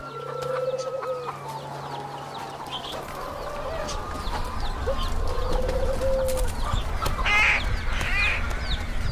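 Chickens clucking and cooing at close range, with a rooster-like call and scattered bird chatter over a low rumbling background, no speech.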